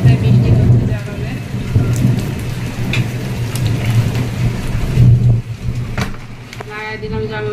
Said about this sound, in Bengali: আজকেও আবার বৃষ্টি আসছে